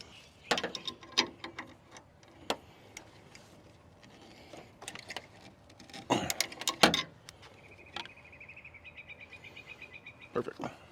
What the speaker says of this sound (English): we'll snug these down nice and tight